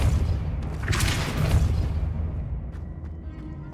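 The Depulso force spell is cast in Hogwarts Legacy, a deep booming blast that peaks about a second in and then fades into a low rumbling tail.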